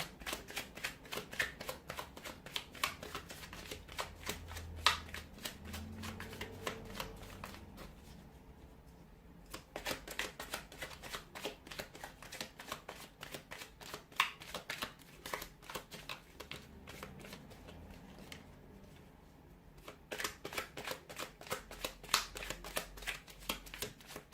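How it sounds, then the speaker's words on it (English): Tarot cards being shuffled repeatedly in rapid riffling bursts, close up, with a couple of brief pauses between rounds; no talking. "give the cards a shuffle"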